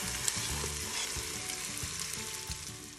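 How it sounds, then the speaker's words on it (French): Chicken browning in the bottom of a Cookeo multicooker pot for a Tunisian chicken and potato dish, a dense continuous sizzle with soft stirring thumps, close and even. "on va le faire dorer dans le fond de la cuve"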